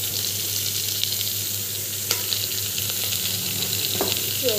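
Garlic and green chili sautéing in a pan, giving a loud, continuous sizzle with a few faint stirring clinks over the steady frying hiss, heard alone with no talk.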